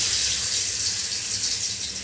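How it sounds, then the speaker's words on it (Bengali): Tofu pieces frying in hot refined oil in a pan over a high flame give a steady, loud hissing sizzle that lasts for about two seconds, with no voices. "এবারে আমি এক এক করে টোফুগুলো দিয়ে ভেজে নেব।"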